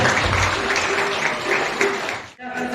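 Crowd applause at a sangeet ceremony, full and sustained with a voice talking over it, then a brief drop before the clapping resumes.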